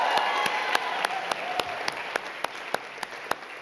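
An audience claps in a studio show setting, with sparse, distinct hand claps spaced regularly over a few seconds, moderately close and fairly light.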